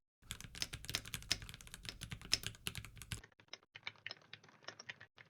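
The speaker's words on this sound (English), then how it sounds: "And now you're hearing me talk while I'm typing in the background." Fast, steady typing on a White Fox Eclipse aluminum-frame keyboard, with crisp, close key clacks in a dense rhythm that turn sparser and quieter partway through.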